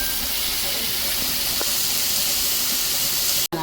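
Finely chopped onions sizzle while being sautéed in a pan, giving a loud, continuous frying hiss with a few small crackles and one abrupt break near the end.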